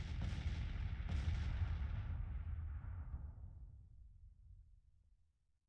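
Artillery fire in the Grand Tactician American Civil War strategy game, 1864 campaign: a loud, rumbling cannonade with a couple of sharp blasts early on, then a long rolling boom that fades away to quiet.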